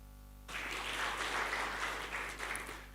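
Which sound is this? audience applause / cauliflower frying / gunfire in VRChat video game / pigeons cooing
audience applause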